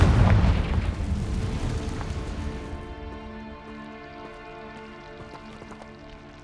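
A Bombarda spell explodes in Hogwarts Legacy with a loud, heavy boom, then fades into a long rumbling, crackling decay that trails off over several seconds.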